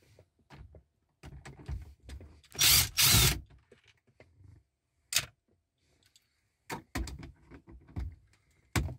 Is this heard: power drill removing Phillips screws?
yes